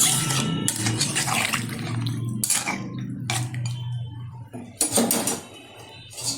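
Water poured from a vessel into a simmering chicken and potato curry in a home kitchen, a splashing pour with several bursts and clinks of pot and utensil, close and fairly loud.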